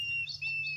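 A water thick-knee call played back at night on an African safari, a brief high thin whistling note that rises and wavers, close and clear over a low steady hum.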